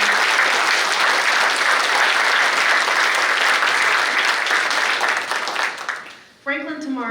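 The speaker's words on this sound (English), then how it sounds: "Let's give them a round of applause." A community talk audience gives a dense, loud round of applause that holds steady, then thins and stops near the end, where a voice briefly begins speaking.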